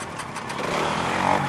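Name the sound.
motorcycle engine starting and running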